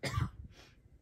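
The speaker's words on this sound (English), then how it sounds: "Oh, I gotta cough again." A single sharp, close cough is followed by a softer throat-clearing rasp, all within about a second in a quiet room.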